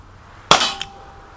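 A single sharp crack from a Gletcher Grach CO2 BB pistol, loud and close, with a brief ringing tail and a faint follow-up tick a fraction of a second later, set against quiet outdoor background.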